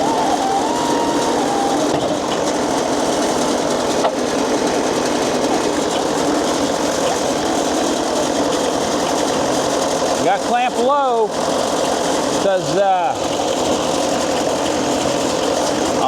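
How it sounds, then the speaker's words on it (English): A Wood-Mizer sawmill cutting one-inch boards from a squared cant of hard dead white oak, a loud, constant mechanical drone with brief rattling bursts near the end while someone talks over it. "I'm sawing 1-bys"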